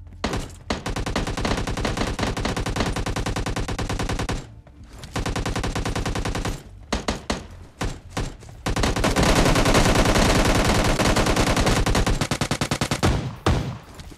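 Gunfire in the video game PUBG Lite comes as loud, rapid automatic bursts, several long strings of shots separated by brief pauses and ending in a sustained barrage.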